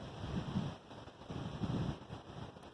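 Wind buffeting a microphone beside a canal during float fishing, a low rumbling roar in two strong gusts with a brief lull between, close and steady throughout.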